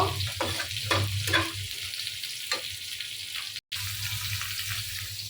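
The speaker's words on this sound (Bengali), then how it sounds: "আমি এখন তরকারির মাছটা বেজে নিচ্ছি" Fish for a curry frying in a pan, a continuous close sizzle with stirring and light scraping, broken briefly by a short gap before the frying sound resumes.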